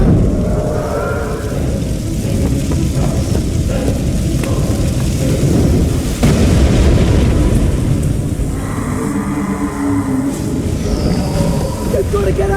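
Roaring fire sweeping through a room in the Harry Potter and the Deathly Hallows Part 2 video game, a loud, steady rumbling blaze with crackling bursts, voices shouting over it throughout.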